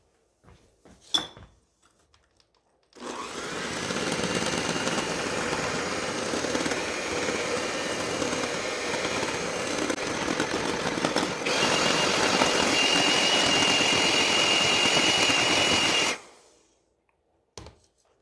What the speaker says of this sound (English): We're going to add 2 cups of sugar, and we're going to beat that until light and fluffy.